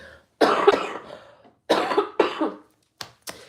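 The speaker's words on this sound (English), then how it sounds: "Let me cough 1 second." Several harsh coughs nearby, in two heavy bursts followed by a couple of short, lighter coughs, with quiet between them.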